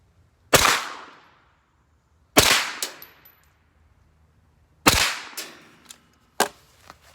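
Cobalt Kinetics PCC carbine firing a group, four sharp loud close shots spaced about two seconds apart with ringing decay, plus a smaller report near the end.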